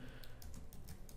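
Quick, light keystrokes on a computer keyboard as a blog post title is typed, a faint run of soft clicks in a quiet room.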